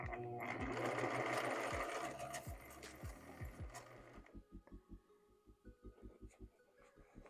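A sewing machine gathers fabric for a blouse cuff, starting with a dense mechanical whir and then slowing to distinct rhythmic stitching thumps, close and fairly quiet.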